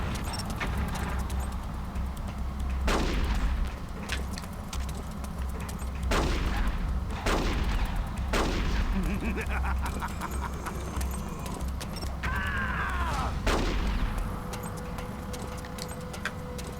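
Sparse, loud single gunshots in Metal Gear Solid: The Twin Snakes, spaced several seconds apart over a low steady background rumble, with faint clicking between them.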